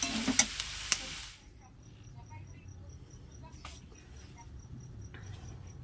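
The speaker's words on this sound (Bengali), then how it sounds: "শুকনো হয়ে এসছে আর একটু নাড়বো দিয়ে এই যে দেখুন একদম ভাজা ভাজা হয়ে গেছে" Food stirred as it dries out and crisps in a frying pan, with a brief louder burst of scraping and sizzle at the start settling into a low, steady quiet fry with occasional faint clinks.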